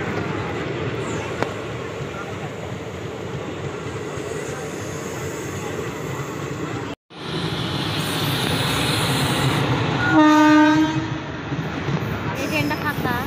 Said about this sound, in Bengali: এই দেখো আমাদের ট্রেন চলে এসেছিলো